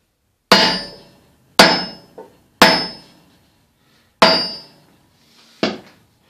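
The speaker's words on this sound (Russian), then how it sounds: "Потом легким движением кувалды" A sledgehammer strikes metal to punch a hole through a homemade polishing disc, giving five sharp, loud ringing blows at an uneven pace, each with a short decaying ring.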